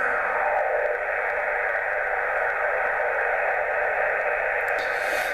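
Steady, loud hiss of radio static on the 20-metre band from a switching power supply, with a constant buzzing band of noise, unchanging throughout with no voices.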